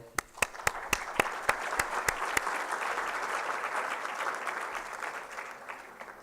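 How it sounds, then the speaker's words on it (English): Applause at the opening remarks of an event, starting with a few sharp, loud individual claps that quickly swell into a fuller crowd clapping, which holds steady and then gradually thins toward the end. "they deserve our respect and a warm applause"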